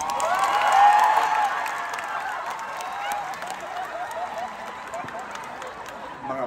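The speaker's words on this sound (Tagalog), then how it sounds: "Sabi ko palakpak lang, yung iba sumigaw pa." Live audience at a Filipino stand-up comedy show at Expo 2020 Dubai bursting into loud applause mixed with shouts and cheers, peaking early then tapering into steady clapping and crowd noise.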